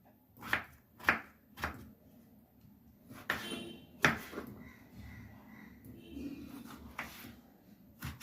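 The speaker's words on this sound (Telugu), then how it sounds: "ఈ సైజులో కట్ చేయాలి." Knife chopping potatoes and beans on a board for a Telugu curry: a series of crisp, close thuds, a few evenly spaced then irregular, with quiet room sounds and occasional faint voice between cuts.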